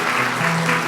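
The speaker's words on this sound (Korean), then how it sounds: "우리 박수로 같이 축하할까요?" Congregation clapping together during a Korean church Sunday service, a dense, steady burst of applause filling the room.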